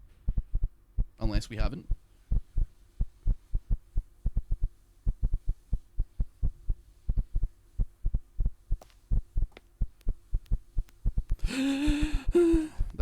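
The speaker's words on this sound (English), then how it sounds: "That's a loud heartbeat" A loud, steady video game heartbeat thumps in a regular double-beat rhythm throughout, with a brief gasp-like sound early on and a short burst of talk near the end.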